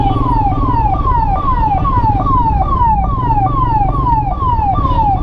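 A loud wailing ambulance siren sweeps up and down in rapid repeating cycles, very close, over a steady rumble of engines and traffic.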